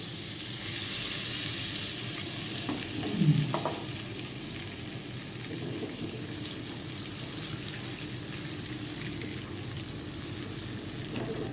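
Butter and oil heating together in a hot pan on a stove, giving a steady broadband sizzle throughout with a brief louder spatter near the middle, no talking.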